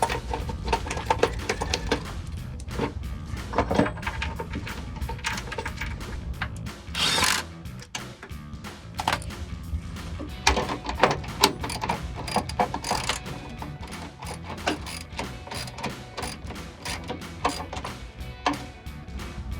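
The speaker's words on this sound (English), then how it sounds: "Line your holes up, run the screw in there." Screws driven into running board brackets on a 2019-2024 Silverado or Sierra 1500, with repeated ratcheting and whirring mechanical bursts. They come in irregular short runs and are close and moderately loud, with no talking.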